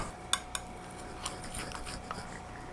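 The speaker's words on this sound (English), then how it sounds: "Let's cut this and see what it looks like on the inside." A knife and utensils clink against a dish while cutting into a baked Irish potato pudding made from a 1786 recipe, with a couple of sharp clicks early and soft scraping afterward, quiet and close.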